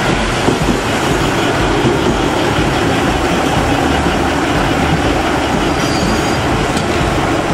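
A train rumbles continuously and loudly nearby at a Japanese railway station, with steady rolling noise and faint wheel squeal, no voices.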